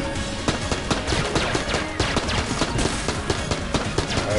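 Enemy gunfire in the video game Enter the Gungeon: rapid, dense volleys of shots in steady bursts, loud and continuous throughout, with no voices.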